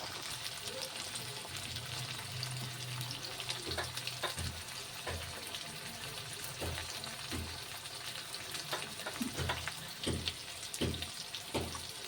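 Tomatoes with salt frying in a pan: a steady sizzle and hiss runs throughout, broken by repeated soft clicks and scrapes of stirring.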